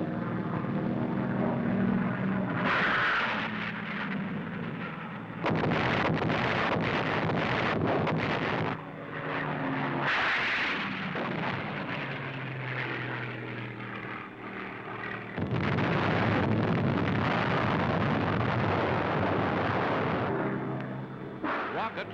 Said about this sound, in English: Rocket projectiles propelled at tremendous speed by the reaction of exploding gases against air are not new